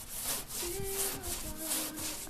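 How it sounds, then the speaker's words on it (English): Rhythmic back-and-forth rasping of wood being sanded by hand on a houseboat roof, several strokes in a steady cadence, close and fairly loud. "he's never-ending sanding"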